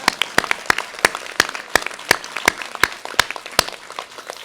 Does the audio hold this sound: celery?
no